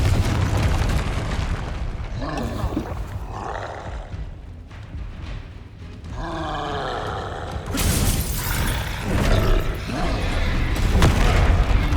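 Confringo blasting curse in Hogwarts Legacy, a series of loud booming, shattering explosions with rumbling tails and game effects, some overlapping, with a voice briefly speaking.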